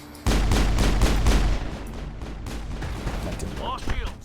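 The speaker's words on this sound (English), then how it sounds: "That was a grenade." A grenade goes off in the video game Mass Effect with a sudden loud blast and a rumbling tail of about a second. Scattered gunfire and lighter combat noises follow.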